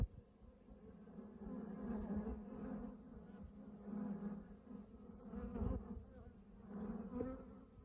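Honeybees hum steadily at an opened hive during an inspection where young bees are hatching on a super frame, a continuous close buzz that swells and fades in waves with no talking.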